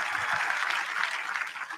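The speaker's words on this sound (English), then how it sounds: "Round of applause again." Audience applause at the Detroit Auto Show Mustang reveal: a brief, steady wash of dense clapping from a large crowd, even and fairly loud throughout.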